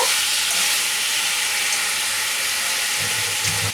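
A katla fish head fries and is stirred in a pan, producing a continuous loud hiss of sizzling oil with faint stirring scrapes near the end, with no talk.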